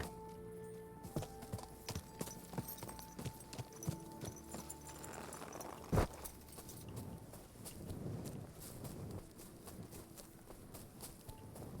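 Steady hoof clip-clops of a horse walking in the video game Kingdom Come: Deliverance, with a jingling of tack, a single sharp thump midway, and some low background hum.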